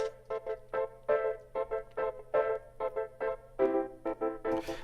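A Logic Pro X mix with a stereo tremolo effect, the center-panned tremolo bus with ring shifter muted, plays as a pulsing, rhythmic tonal phrase with choppy on-off amplitude, moderately loud and without voices.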